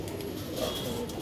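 Low, soft cooing from a jet-black pigeon murmurs steadily close by, a continuous throaty warble with no talking.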